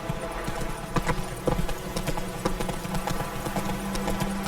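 Roach, the horse in the video game The Witcher 3: Wild Hunt, gallops with a quick, rolling rhythm of hoofbeats, fairly loud and close over game ambience.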